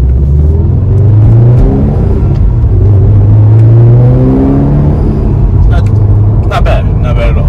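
A 2016 Subaru STI engine pulling hard in sport mode, a loud close rumble with rising and falling tones as it revs up through the gears, with a few sharp clicks toward the end.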